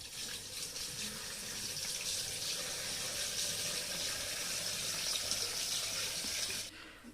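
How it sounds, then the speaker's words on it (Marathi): Clean water pours steadily over mangoes in a container for storing them in brine, a continuous close gushing splash that runs for several seconds before stopping abruptly. "तर हे पाणी आपल्याला ह्याच्यामध्ये ओततायचं आहे"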